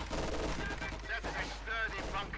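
Machine gun fire in the Company of Heroes 2 strategy game, a light machine gun among infantry, heard as dense rapid gunfire bursts with a commentator's voice over them.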